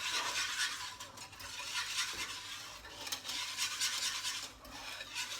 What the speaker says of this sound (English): my eggs are going in the pan, and I'm going to keep whisking it